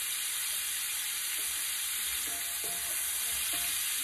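Food stirred in a hot pan of shrimp for Cajun jambalaya pasta, with a steady loud sizzle throughout and a few soft scraping strokes of the utensil, close and without talking.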